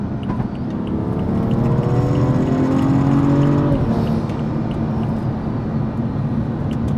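A BMW 435i with a Stage 2 tune accelerates hard through a gear on a highway pull, engine note climbing steadily for several seconds before easing off, loud and close from inside the car with road roar throughout.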